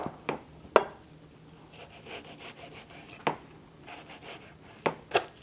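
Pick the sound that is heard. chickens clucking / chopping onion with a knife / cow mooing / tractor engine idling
chopping onion with a knife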